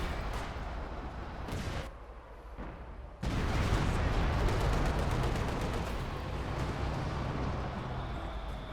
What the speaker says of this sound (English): Artillery coming in, and it's going to do some damage, but it's not going to be enough.